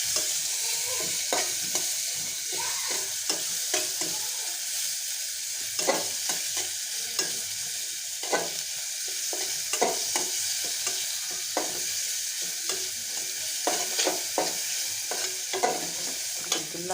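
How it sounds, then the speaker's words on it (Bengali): Green chilies, whole cumin seeds and bay leaves fry in hot oil with a steady, close sizzle, broken by repeated scraping stirs of a spoon in the pan. "তেল গরম হয়ে গেছে কালি করতে দিয়ে দিলাম কাঁচামরিচ তারপর গোটা গোটা জিরে তেজপাতা দিয়ে"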